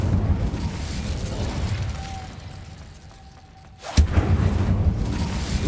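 A fire spell explodes in Hogwarts Legacy, bursting out with a sudden loud boom after a quieter stretch and giving way to a continuing heavy roar.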